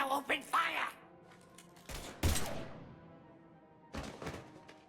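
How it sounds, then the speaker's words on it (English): Gunfire in a Mass Effect 3 battle, a few sharp heavy shots and bursts spaced across a few seconds, fairly quiet, with a voice heard at the start. "Now open fire!"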